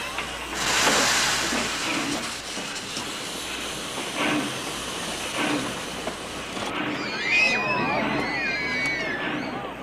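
A train rolls along with a loud steady hiss of steam, rumbling and rattling close by before a higher squealing screech rises near the end.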